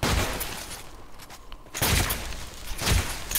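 Shotgun blasts in a video game, two loud, close, sharp bursts about a second apart, with fainter background noise between them.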